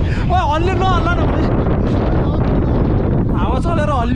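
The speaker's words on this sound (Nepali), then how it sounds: "हावा चलेर हल्लियो" Strong wind gusting across a swaying suspension bridge on a mountain trek in Manang, a loud continuous roar with buffeting, while voices speak over it.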